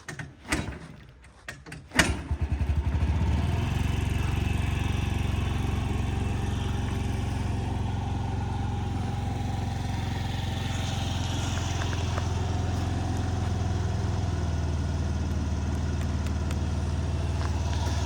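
A Honda Gyro X scooter engine idles steadily after a brief clatter at startup, a low continuous drone close by that holds for the rest of the clip with no talk.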